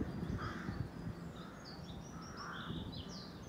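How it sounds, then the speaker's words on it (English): Crows caw out in the open on a February nature walk, several rough, fairly distant calls repeating over soft outdoor background noise, with no talking. "crows."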